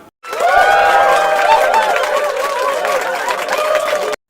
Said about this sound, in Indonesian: Sorak gembira terdengar kala mendengar bahwa Purbasarilah yang memenangkan sayembara pertama